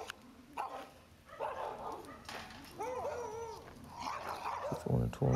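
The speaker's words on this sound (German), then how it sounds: "Hunde hinterm Zaun." Several dogs behind a fence barking, yipping and whining in short excited bursts, fairly close and moderately loud, with a person talking briefly among the barks.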